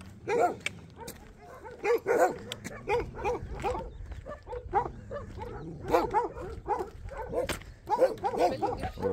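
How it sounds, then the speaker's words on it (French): Several village dogs in rural Greece bark repeatedly in quick, overlapping bursts, some close and loud, with yips mixed in, while people talk over them. "qui dit premier village, qui dit accueil par les chiens."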